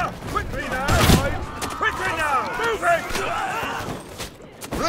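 A volley of gunfire rings out in a video game siege battle, with a loud, sharp burst near the start followed by scattered shots, under shouted battle commands.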